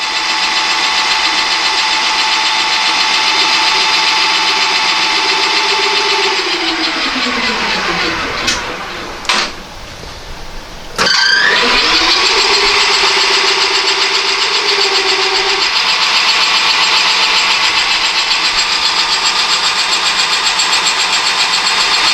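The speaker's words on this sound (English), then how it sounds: "we're just going to skim this thing down a couple of thou" A lathe-type machine skims a bolt for a Toro mower's anti-scalping knurled wheel: a loud steady motor whine that dips and winds down, pauses briefly with clicks, then spins back up and runs on evenly, close and alone.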